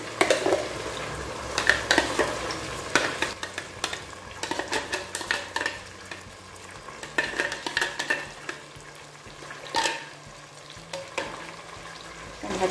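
Grated tomatoes go into a pot of bean stew and get stirred, loud spoon scrapes and clanks against the pot in irregular bursts over a soft simmering sizzle, with no voices.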